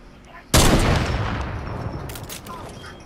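A sniper shot rings out in a video game during a Halloween event, fired from a plane: one sudden loud blast with a long decaying boom and echo, followed by faint crackles.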